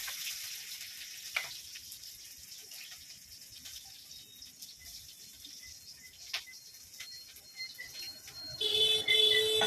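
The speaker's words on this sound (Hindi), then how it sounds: "प्याज फ्राए करची कोबी को भाजी आई कोलथ डाली" Onion and cauliflower fry in a pan with a soft, continuous sizzle, faint crackles and a few brief clinks, growing louder and hissier in the final second.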